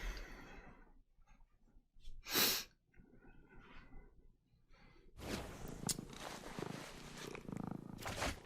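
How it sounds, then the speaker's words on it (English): A soft purring sound in the audio of a Magic Arena game, a low rumbling purr with a sharp burst partway through, followed by a denser, noisier stretch, faint overall. "I just got a purring sound in my audio."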